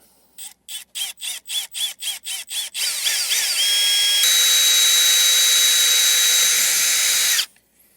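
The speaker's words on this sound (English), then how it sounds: "I'm going to take an 1/8 inch drill bit and I'm going to drill out the spot" An electric drill with a 1/8 inch bit pulses in about ten short quick bursts, then runs continuously at high speed for several seconds before stopping abruptly.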